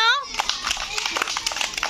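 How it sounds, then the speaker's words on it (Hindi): A group of class 1 schoolchildren clapping for a classmate at a village primary school, a scattered, uneven patter of many small hands that follows a brief rising voice at the start, with children's chatter mixed in throughout. "माही के लिए सारे बच्चे ताली बजाओ"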